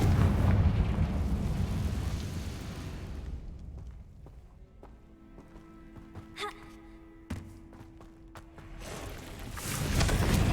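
Explosion spells cast in a Harry Potter-style video game: a loud, rumbling blast fills the opening seconds, followed by quieter scattered thumps and sharp bursts over a low sustained tone, with another swelling blast near the end.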